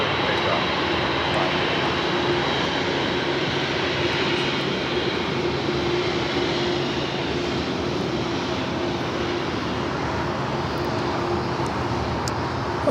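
An airliner roars steadily through a takeoff roll from runway 25 left at Los Angeles LAX, a broad sustained engine noise that stays loud and even for the whole stretch with no voices heard.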